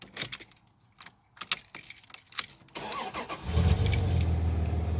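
A car with a rear brake and ABS warning light problem starts up: keys jangle and click, then the starter cranks and the engine catches and settles into a steady, loud idle, close by, with no talk.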